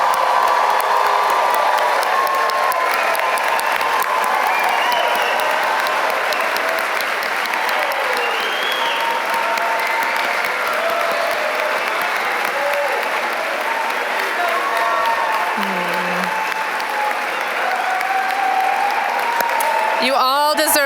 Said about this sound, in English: give one last final round of applause for our 2026 graduates.